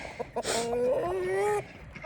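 A hen in a backyard chicken coop gives a few short clucks, then a drawn-out, rising squawking call lasting about a second, loud and close, followed by quieter clucking.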